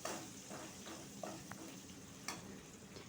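Tomato frying on low heat in a pan: a soft, steady sizzle close by with a few light clicks of a utensil against the pan, quiet and without talking.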